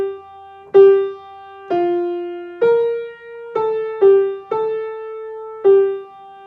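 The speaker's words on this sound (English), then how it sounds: "the theme for this fugue is the first two opening bars of Savior of the Nations Come" A short organ-like keyboard line plays the opening two bars of the Advent hymn Savior of the Nations Come as a fugue theme, seven clear sustained notes in a slow stepwise melody, alone and close.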